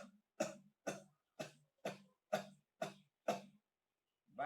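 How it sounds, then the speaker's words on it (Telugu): Eight forceful, evenly spaced nasal exhalations during a pranayama breathing exercise, each a short sharp puff close to the mic, with silence between bursts and no audible inhalations. "బయటకు వచ్చే గాలి మాత్రమే సౌండ్ వచ్చింది"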